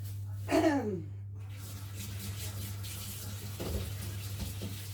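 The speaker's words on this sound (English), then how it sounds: "I'm just going to wash my hands a minute so I can handle you lot." Hands washed under a running kitchen tap after shaping sausage roll dough, a brief gush and splash of water followed by a softer continuous trickle over a steady low hum.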